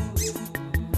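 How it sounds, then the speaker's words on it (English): A squeaky dog toy squeezed in quick succession, giving about five sharp, loud rubbery squeaks spaced roughly a fifth of a second apart, alone with no talk. "I love my squeaky toy."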